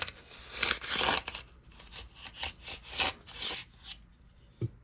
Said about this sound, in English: I'm just gonna go with the buck knife